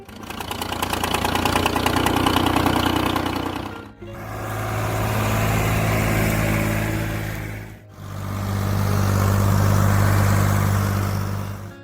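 A Ford 4000 tractor's diesel engine idles with a steady, loud, slightly knocking chug, broken by two brief dips where the sound cuts out before resuming.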